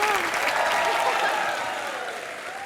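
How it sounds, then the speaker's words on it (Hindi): A studio audience on a comedy show claps in loud, dense applause that gradually tapers, with a voice talking over it. "जयकारा हीरोपंती के लिए जोरदार तालियां हो जाएं"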